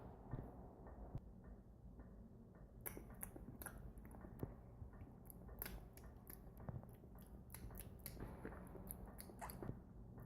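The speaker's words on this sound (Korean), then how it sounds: "얘들아 먹자 와 바나나 먹자" Someone bites and chews a banana in close, quiet detail, with soft wet squishes and small crisp clicks repeating irregularly over a faint steady hum, no voices.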